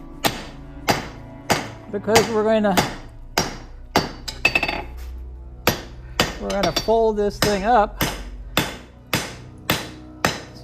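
Hand hammer blows ring out steadily on a forged katana steel blade, smoothing ridges left by a trip hammer; sharp metallic strikes repeat at a regular pace, with someone speaking briefly between them.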